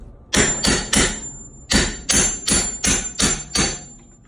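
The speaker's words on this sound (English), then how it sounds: "Chisel just a little bit." A hammer strikes a chisel to free a pre-hung door during a DIY install, eight sharp close blows in two quick bursts of three and five with a brief pause between.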